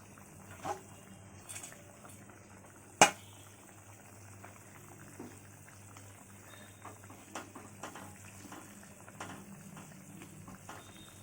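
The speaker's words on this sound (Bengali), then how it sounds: "ঝোল ফুটছে" A curry gravy with green chillies simmers in a pot with faint, soft bubbling, broken by one sharp click early on.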